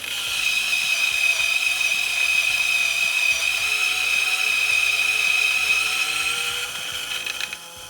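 A MHW-3Bomber Sniper conical burr coffee grinder grinding beans at a slow RPM, a steady, loud high-pitched whine and rattling crunch running for about seven seconds before easing off near the end.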